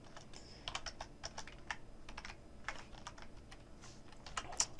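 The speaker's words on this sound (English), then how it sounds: "I just cannot type for the life of me" Close computer keyboard keystrokes tap out in short irregular bursts with small pauses, faint and dry against a quiet room.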